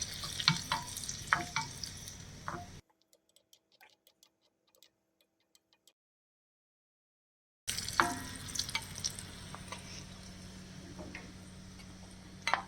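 Raisins roast in a pan for sweet pongal, giving a soft, steady sizzle with light stirring clicks up close, broken by a silent stretch of several seconds before the sizzling returns.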